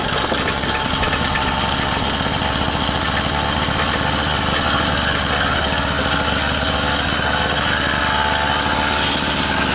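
Small engine on an all-terrain bike running hard at high revs, a continuous loud buzzing drone with a fast rattling pulse, steady throughout and close by with no talk.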